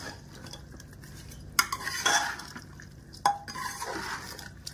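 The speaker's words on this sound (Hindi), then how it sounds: "अब इसे भून लेती" Beef keema being stirred and roasted in a pan: a spoon scrapes and clinks against the metal in a few sharp bursts over a faint sizzle, close by, with no talking.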